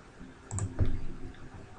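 A single computer mouse click sounds close and quiet against light room noise, with a small soft tap just before it.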